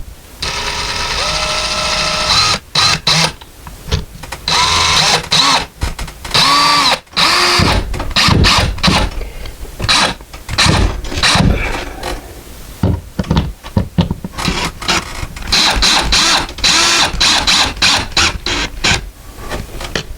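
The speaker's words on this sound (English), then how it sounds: "Now if you are using the electric screwdriver, do not over tighten it and strip it out" An electric screwdriver drives a screw into a drywall anchor while a curtain rod is installed, giving loud, close whirring bursts with ratcheting clicks, stopping and restarting repeatedly with no talk.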